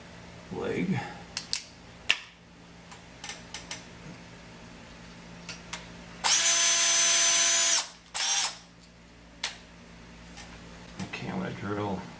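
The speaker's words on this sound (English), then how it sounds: "Okay, I'm going to drill a hole where I mark it." A power drill bores a hole in the base for a horse armature: one loud, sustained whine lasting over a second, then a shorter burst, amid small clicks and handling noises, with a brief voice at the start.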